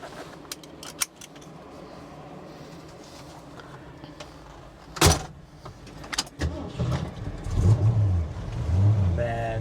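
A 1968 Ford Mustang GT California Special engine turns over with a sharp burst, then revs in rising, throaty pulses that grow louder toward the end.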